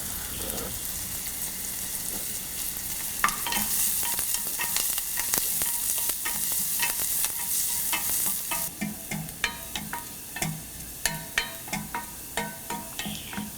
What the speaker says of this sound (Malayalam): ചെറിയ ഉള്ളിയും ബാക്കിയുള്ള 1 തണ്ട് കറിവേപ്പിലയും ഇട്ട് വഴറ്റുക